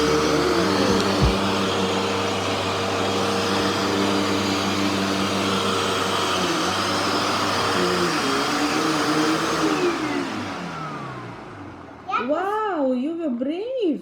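A household vacuum cleaner drones loudly and steadily up close, operated by a five-year-old girl, its motor winding down near the end as a voice chimes in over it.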